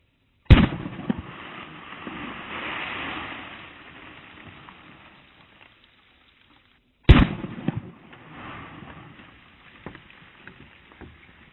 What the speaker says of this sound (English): Let's shoot a frozen milk jug with it and see what happens.